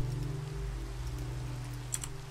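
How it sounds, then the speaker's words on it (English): Steady rain falling in the Minecraft video game, a faint, even hiss over a low constant hum, with no talking. "Oh, rain's coming on."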